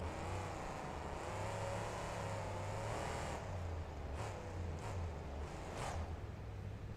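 A monster truck engine in the BeamNG racing game drones steadily at low pitch through a stadium event, with several quick bursts of revving or passing noise near the end.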